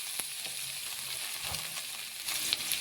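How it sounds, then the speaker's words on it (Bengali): Ginger, cumin, green chilli and garlic paste sizzling steadily in a hot pan with carrot and potato, with a constant bright frying hiss and occasional soft scrapes of stirring close by. "ভালোভাবে নাড়াচাড়া করে একটু কষিয়ে নিচ্ছি মশলা"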